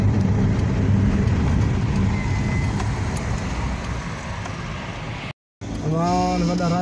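Heavy road traffic in Saudi Arabia, a loud continuous roar of vehicles that cuts out briefly near the end, with a voice speaking over the final seconds.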